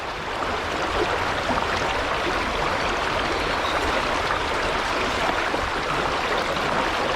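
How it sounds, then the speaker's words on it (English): Fast, heavy river water rushing through a gold sluice during prospecting, a steady broadband wash that stays close and loud without letup and with no voices. "There's a lot of flow in the water here."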